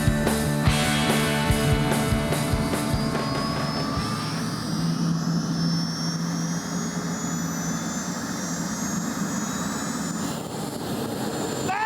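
A jet-engine-powered car runs with a steady, loud turbine roar and a high rising whine, a continuous close drone filling the whole stretch with a few knocks early on.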